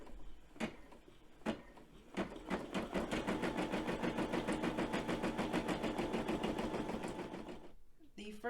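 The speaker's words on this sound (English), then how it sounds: "So I'm just simply going to drop the foot and hit embroider." An embroidery machine starts up after a few clicks and then stitches a design in a fast, steady, rhythmic mechanical chatter, close and continuous, before slowing to a stop.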